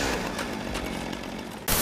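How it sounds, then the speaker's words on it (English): A chainsaw snarls in a Texas Chainsaw 3D movie scene, with a loud raspy engine running steadily and then a sudden harsh burst near the end. "Daddario just throwing a chainsaw to her cousin"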